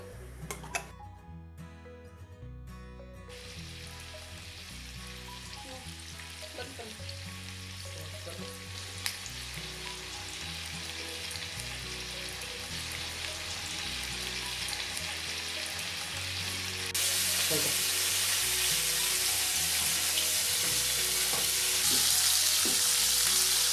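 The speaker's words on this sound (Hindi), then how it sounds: "आइए हम पैन में भी पनीर टिक्का को ग्रिल कर लेते हैं।" Paneer tikka grills in a pan, sending up a continuous close sizzle and crackle that grows louder and denser toward the end, over a low steady tonal hum.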